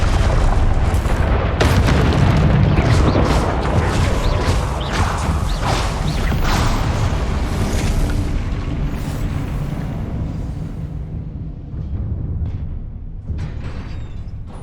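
Confringo spell explosions in the game Hogwarts Legacy, a loud rumbling boom with crackling bursts that rolls on for several seconds, then decays into quieter scattered pops and a lingering low rumble.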